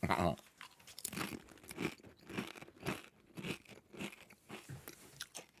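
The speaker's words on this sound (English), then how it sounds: "now I'm going to take this little hint of lime chip and crunch it" Close, repeated crunching as a hint-of-lime tortilla chip is bitten and chewed, about a dozen crisp rhythmic crunches in quick succession, loud and near with no talking.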